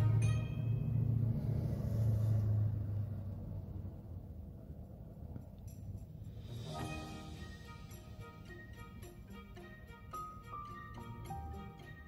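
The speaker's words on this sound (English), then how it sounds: "I would like to apologize for the traffic in the background." Road traffic in a busy area rumbles steadily in the background, a passing car swelling louder early and then easing into a low continuous drone, with no voices.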